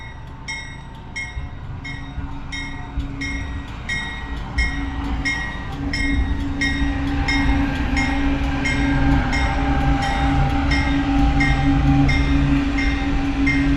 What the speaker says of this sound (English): Here's your train for today.